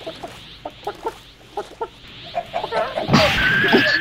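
A person imitates a chicken clucking during a Minecraft game, giving a series of short, evenly spaced vocal clucks that end in a louder, higher burst close to the microphone.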